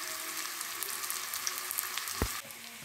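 Vegetables fry in a pan for a soy chilli dish, a quiet, steady sizzle with light crackles and a brief stirring clatter near the end.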